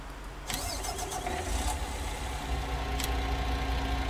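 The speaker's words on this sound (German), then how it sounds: "Wir werden mal gleich den LKW starten" A truck's diesel engine is cranked and catches, then settles into a steady low idle rumble that continues close by, with a couple of sharp clanks partway through.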